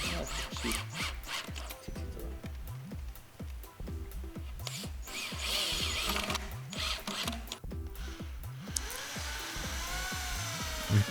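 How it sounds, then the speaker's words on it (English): Wooden pinball playfield being drilled for a German flipper build, a power drill whirring in a steady series of short repeated bursts, close and fairly loud, with no one talking. "We pre-drilled every hole on our flipper."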